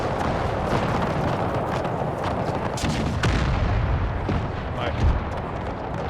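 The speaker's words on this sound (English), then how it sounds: "There we go, there goes the hand grenades." Explosions and gunfire from hand grenades in the Empire 2 video game, a dense, continuous battle din with sharp bursts scattered throughout and a louder blast near the end, no voices on top.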